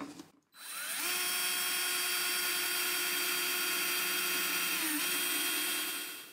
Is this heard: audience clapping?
no